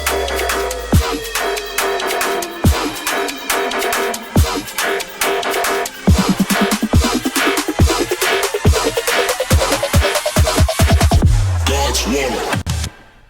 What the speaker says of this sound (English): that lead is going to get pitched down